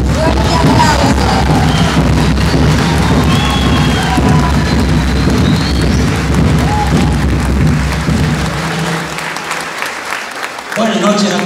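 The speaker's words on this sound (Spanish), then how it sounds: "¡Un fuerte aplauso!" Loud crowd applause with scattered cheers fills a neighborhood center event hall, dense clapping and voices mixed together before cutting off abruptly near the end.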